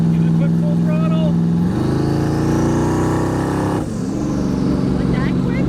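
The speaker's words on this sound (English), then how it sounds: "Give it a quick full throttle." Twin-turbo Fox Body engine run up at full throttle, a loud close rev that climbs steeply, holds at a high roar, then drops back toward idle, with voices talking alongside.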